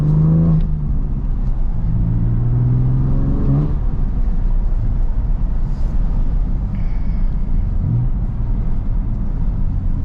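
Engine of a BMW F80 M3 heard from inside while driving, a steady low rumble with a brief rise in revs early on and continuous road and cabin noise throughout, no talking.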